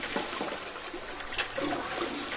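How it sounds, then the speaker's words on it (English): Toilet flushing in the video game Zero Escape: 999, a steady rushing and trickling of water with splashy surges, moderately loud and continuous, with no talking over it. "I heard a loud flushing noise"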